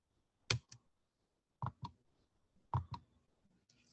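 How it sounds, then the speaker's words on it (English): Computer keyboard keys click in short paired bursts separated by brief pauses, close and fairly quiet, during a typing practice drill. "You want to practice typing quickly."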